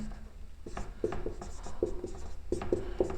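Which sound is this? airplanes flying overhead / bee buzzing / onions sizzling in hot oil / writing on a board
writing on a board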